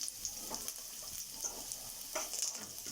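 Beetroot pieces and curry leaves frying in a pan for beetroot curry, a steady close sizzle with occasional crackles and stirring scrapes, no talking.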